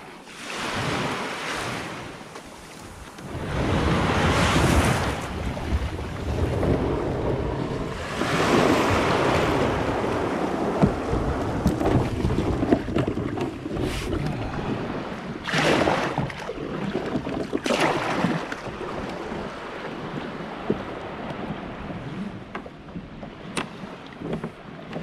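A kayak launches into ocean surf at Montana de Oro. Waves wash and crash in surges while wind buffets the microphone loudly, with no voices over roughly half a minute of churning water.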